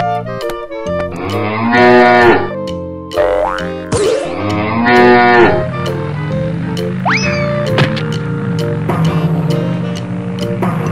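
A cow moos loudly in a few long, drawn-out calls, layered over playful cartoon music with bouncy, boinging effects, no talking.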